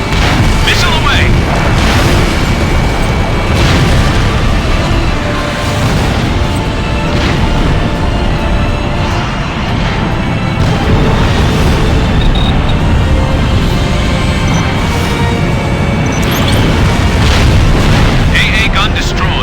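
Jet combat in Ace Combat Infinity, with a missile launch and a constant, loud rumble of booming explosions and engine roar that never lets up, sharp hits popping through at intervals.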